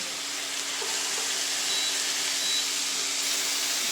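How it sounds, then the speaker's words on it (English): A steady, close hiss of garlic-coated chicken sizzling in a hot pan, loud and unbroken throughout. "The chicken is all nicely coated, so we're going to get it in the pan here. Yeah, got the sizzle."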